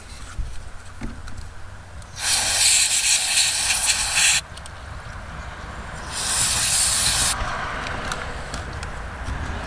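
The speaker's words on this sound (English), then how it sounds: "spraying it down with some electronics cleaner here" Two long hissing bursts of electronics cleaner sprayed from an aerosol can onto a 1948 Willys Jeep's horn and turn signal parts, each about two seconds, separated by a short pause over faint background noise.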